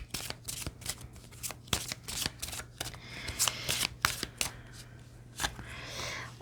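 Tarot cards are shuffled by hand before a card reading, with a rapid series of close riffling flutters and sharp card slaps repeating irregularly over a low steady hum, no voices.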